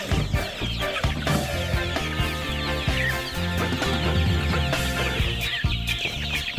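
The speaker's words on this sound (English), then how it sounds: "Let the birds out." A busy flock of chickens on a homestead with rare birds clucks and squawks nonstop as they are let out, dense overlapping calls that are close and loud, with scattered sharper cries.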